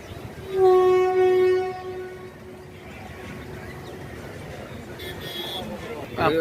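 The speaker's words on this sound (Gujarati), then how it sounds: "ફાઇનલી મિત્રો એવો અમારી ટ્રેન ઊભી રહી ગઈ છે" A passenger train travelling from Rajkot toward Somnath sounds a loud, sustained horn blast, then rumbles and rattles more softly as it comes to a halt. A final short burst of clatter ends it, and voices are heard nearby.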